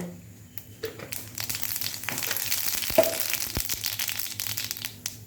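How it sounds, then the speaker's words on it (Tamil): Mustard seeds splutter in hot oil as a tempering for a South Indian idli chutney, crackling in scattered sharp pops and crinkly bursts that build to a dense cluster midway. "கொஞ்சம் எண்ணெய் ஊற்றி கடுகை தாளித்து வச்சுப்போம்"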